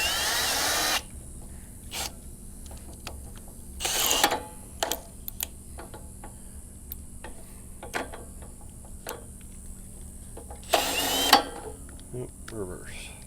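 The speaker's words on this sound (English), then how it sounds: "So you spin this in reverse, that's why it's called backlapping." A McLane reel mower that sat unused for over 20 years is spun in reverse for backlapping. Its blades tick and click steadily, broken by a few louder grinding whirs.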